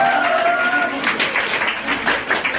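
An audience at a poetry recital and honours ceremony claps in a brief burst of applause, with a voice talking over the clapping.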